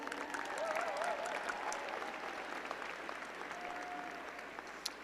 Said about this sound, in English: Let's give them a round of applause too.